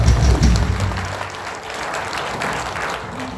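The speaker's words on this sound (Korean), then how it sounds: "크게 여러분 박수 한번 드려주시기 바랍니다" Loud applause from the crowd at a patriotic national rally, dense clapping that starts strong and stays steady for a few seconds.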